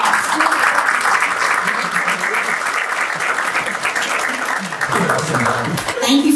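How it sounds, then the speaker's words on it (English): Applause from a candidates' forum audience for sitting elected officials at a 2024 primaries event, a steady dense wash of many hands clapping that holds throughout, with a voice breaking in near the end. "let's give them a round of applause."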